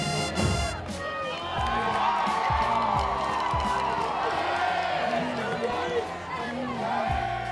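A raucous Wake Forest football crowd cheers and yells continuously in the stands, a dense roar of voices and whoops with a band playing underneath, with talk over it.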